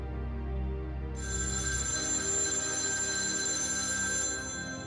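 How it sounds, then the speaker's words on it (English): A telephone rings with a bright electronic trill that starts after a low rumble and holds steady for a few seconds, fairly quiet and with no voices over it. "A phone rang."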